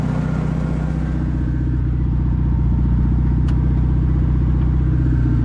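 A 1974 Volkswagen Thing with a Super Beetle engine runs steadily while driving, a loud, close air-cooled putter with a fast even rhythm and rattling undertone, no voices.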